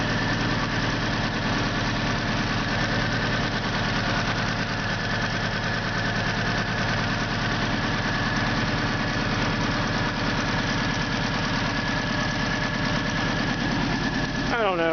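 A freshly rebuilt 2.51 liter Banana car engine idles on its first start, running slightly rough with a possible spark plug wire fault, a loud, steady drone with knocking vibration that continues close up for the whole stretch.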